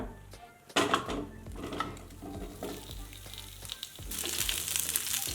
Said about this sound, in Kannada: ಈಗ ಈ ಪ್ಯಾನಿಗೆ ಈರುಳ್ಳಿ ಹಾಕೊಳ್ಳೋಣ